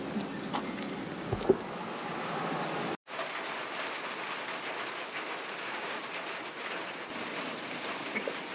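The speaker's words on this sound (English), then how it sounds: "it's been pouring rain for the past hour" Pouring rain hisses as a steady broadband wash with scattered drop impacts, briefly cut off by a short gap before resuming just as steadily and fairly faint.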